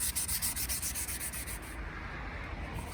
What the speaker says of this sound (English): So I'm just going to do a simple sanding first, a rough 600, just to remove the imperfections on the plastic